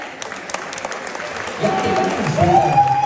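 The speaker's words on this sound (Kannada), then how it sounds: "ಇವರಿಗೆಲ್ಲ ದೊಡ್ಡ ಚಪ್ಪಾಳೆ ಬರ್ಬೇಕು" Audience applause at a Kannada Rajyotsava 2025 cultural program, a steady wash of clapping that swells louder in the second half, mixed with a voice over it.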